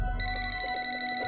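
A telephone rings at night, a loud, close electronic ringing tone that holds steady and pulses slightly over about a second, with no voices.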